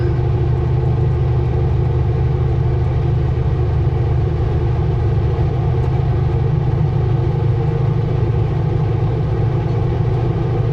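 Steady, loud engine drone of a car driving along a rural British Columbia highway through farmland near Clearwater, a continuous low rumble throughout with no clear rise in revs.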